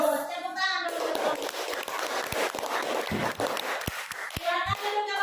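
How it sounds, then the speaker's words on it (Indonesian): Children in an elementary classroom clap for a student group that has finished presenting. A burst of scattered clapping runs for several seconds, with overlapping kids' voices and sharp individual hand claps near the end. "Tepuk tangan dulu"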